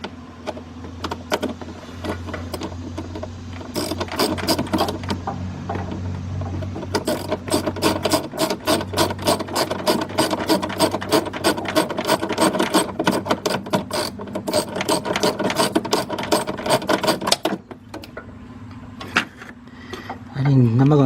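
Rapid repeated ratcheting clicks from a ratchet loosening blower motor screws on a 2000 Dodge Ram Van B1500, long runs of close, fast clicking with short pauses, under a steady low hum.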